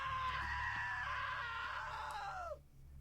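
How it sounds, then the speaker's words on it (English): A loud, sustained scream from a character in the video game What Remains of Edith Finch, held steadily before sliding downward and breaking off, with nothing else audible. "Now that was a great scream."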